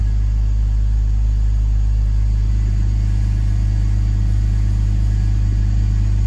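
A 2003 BMW E46 330i ZHP wagon idles after a cold start with a steady, loud engine drone and low rumble throughout, the idle held high while the secondary air system runs; no voices are heard.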